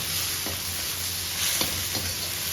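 Steady, close sizzling of raw chicken pieces frying in a pan for fried rice, with a few light stirring scrapes breaking through the hiss.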